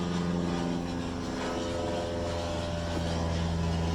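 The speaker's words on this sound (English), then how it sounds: "Sorry for the plane going by. I live by an airport." An airplane flies low overhead near an airport, a steady droning engine roar that holds loud and unbroken throughout with no talk over it.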